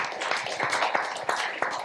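An investor-panel audience applauding a presenter before an elevator pitch, a dense burst of many hands clapping in a room, fairly close and steady for a couple of seconds.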